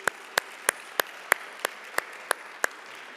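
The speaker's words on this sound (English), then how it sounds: "Thank you for helping start the clapping right there" A few people clapping slowly and sparsely at a college awards ceremony, about nine distinct, evenly spaced claps ringing out over a quiet room, close and crisp, with no talking.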